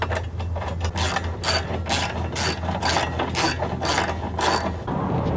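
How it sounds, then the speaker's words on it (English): Rapid ratchet clicks in bursts as 10mm bolts are run down to fasten a heat shield onto a 2007 Chevy Trailblazer during a cold air intake install, close and steady with no talking. "The heat shield just bolts in place with a couple of the 10mm bolts included in the kit."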